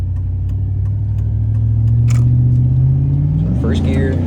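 A GMT800 pickup truck accelerates on an access road, its engine rumbling steadily and rising in pitch before a firm upshift near the end, heard from inside the cab.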